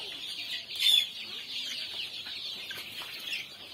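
Local chickens on a poultry farm in Tapa, Barpeta cluck steadily at moderate distance, with one brief louder call and a constant background of bird noise.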